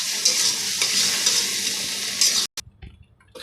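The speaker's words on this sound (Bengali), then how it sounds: "মাছের তেলটা আমার হয়ে গেছে ভাজা" Fish oil (fish fat) frying in a pan, a steady dense sizzle with faint stirring scrapes that cuts off abruptly near the end, leaving quieter scattered kitchen sounds.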